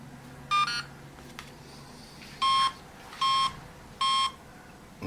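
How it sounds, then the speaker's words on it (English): An ESC gives one short beep, then three loud, evenly spaced electronic beeps, signalling that it has detected a 3-cell LiPo battery. The tones are close and clear, with no talking. "those last 3 beeps were telling us that we have a 3-cell battery"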